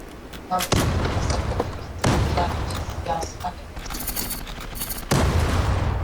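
Rapid bursts of automatic gunfire from the online shooter game Zula, loud volleys cutting in and out in several sharp bursts over a low rumbling backdrop, with a player talking over the action.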